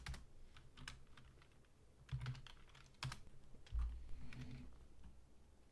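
Someone types on a computer keyboard in quick bursts of clicking keystrokes, with a few heavier taps. The typing is close but faint, with no talking.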